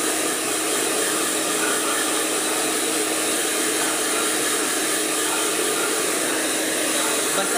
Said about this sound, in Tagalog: time to use a blower.